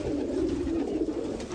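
Old domestic pigeons from a forty-year-old flock coo in a low, steady murmur, close and moderately loud, with no voices.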